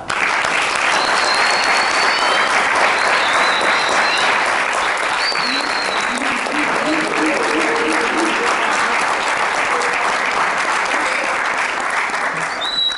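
Studio audience on a French TV dating talk show set applauding loudly and steadily as a guest named Eva walks on, a dense continuous wash of clapping with a few cheers and whoops over it, sustained for the whole stretch.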